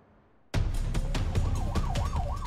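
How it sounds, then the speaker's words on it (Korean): A fire truck siren wails as the engine responds to a fire call on a city street in Korea, starting abruptly loud with rapid horn-like bursts and then sweeping up and down in a close, continuous yelp. "소방차 출동합니다."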